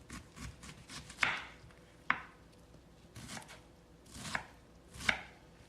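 A knife slices through a purple vegetable on a cutting board in a home kitchen, giving several crisp, separate chops at uneven intervals, close and fairly quiet.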